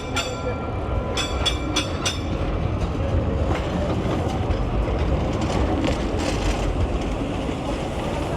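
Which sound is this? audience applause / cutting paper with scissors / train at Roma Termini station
train at Roma Termini station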